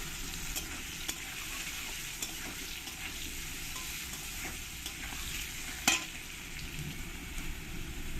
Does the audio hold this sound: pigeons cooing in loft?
no